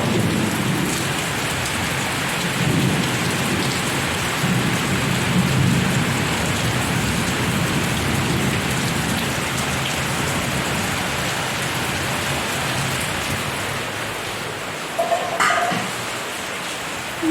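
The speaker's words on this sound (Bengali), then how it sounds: "আর দেখো বৃষ্টি হচ্ছে।" Heavy rain pours in a loud, dense, continuous roar that stays close and constant, and a short rumble of thunder swells near the end, with no voices over it.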